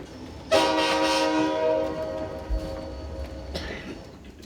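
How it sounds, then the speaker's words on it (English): Express train pulling through a station toward Canterbury, opening with a loud sustained horn blast over the rumble of wheels, followed by a second, shorter horn burst near the end. "We could see the smoke of the express train approaching behind us."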